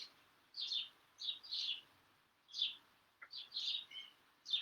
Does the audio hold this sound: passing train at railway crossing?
no